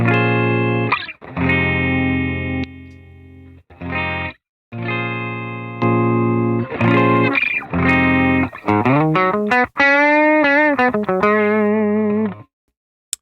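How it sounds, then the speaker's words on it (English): An electric guitar played through a Jekyll & Hyde overdrive/distortion pedal set for a clean boost rings out in loud sustained chords with short gaps, then bent, wavering single notes before cutting off. "You can just get a boost, nice clean boost."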